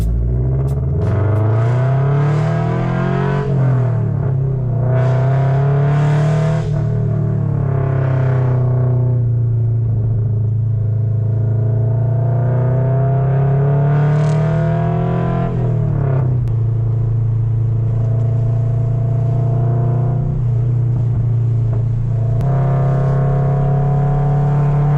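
A modified Toyota GR86 engine drones loud and close while driving, its deep steady note rising and falling through revs and gear changes, with no talking.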